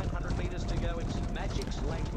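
Rapid hoofbeats of a galloping horse in the game Rival Stars Horse Racing drum steadily beneath continuous speech, with a busy, noisy background.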